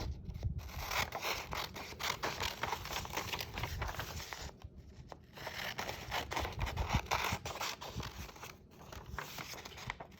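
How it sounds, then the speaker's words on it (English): Close, continuous snipping and scraping of scissors through paper, with brief pauses between runs of cuts. "You're going to very carefully cut out the rectangle box like Mrs. Ling is."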